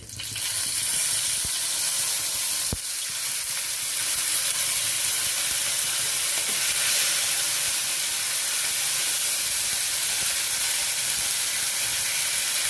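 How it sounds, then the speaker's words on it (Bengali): Dried red chillies, whole cumin and a ginger-cumin paste sizzle steadily in hot oil, a continuous loud hissing fry that holds evenly from start to finish, with one brief sharp crackle early on. "শুকনো লঙ্কা গোটা জিরে ফোড়নগুলো হালকা ভেজে দিয়ে দিচ্ছি জিরা আদা পেস্ট"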